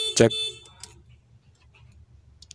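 A car horn gives one short, loud honk right at the start, then a quiet room with faint clicking; another brief sound cuts in at the very end.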